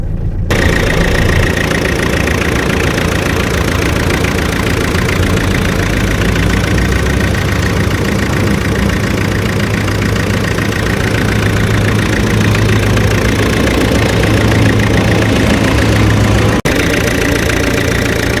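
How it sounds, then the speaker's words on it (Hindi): A Tata Telcoline pickup's 2-litre Peugeot-derived XD88 diesel engine idles steadily, a dense continuous clatter and low rumble heard up close and loud, with no voices over it. "This is the XD88 Peugeot derived engine."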